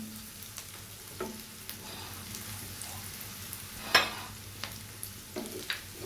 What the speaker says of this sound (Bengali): পেঁয়াজ এবং রসুনটা একটু ভাজা হওয়ার জন্য অপেক্ষা করব